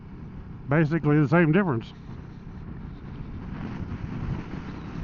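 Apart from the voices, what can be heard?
wind blowing against a motorcycle helmet microphone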